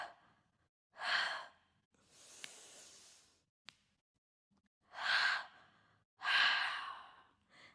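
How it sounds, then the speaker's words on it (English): Audible breathing during a hip-flexor stretch in a mobility workout, with several long, breathy exhales and a soft intake between them, close and fairly quiet. "Exhale."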